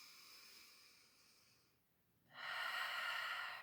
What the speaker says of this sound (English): Take a few deep breaths just to really set off the practice here.